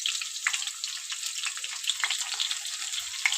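Onion and chopped garlic fry in oil with a continuous bright, hissing sizzle and scattered small pops, close and steady with no voices.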